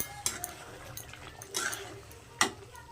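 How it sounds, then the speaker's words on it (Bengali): A lid is lifted off a pot of South Indian-style chatina chicken, giving a few soft metallic clinks and scrapes, close but quiet, with a faint simmer underneath. "15 মিনিট পর আমি ঢাকনাটা খুলে দিচ্ছি"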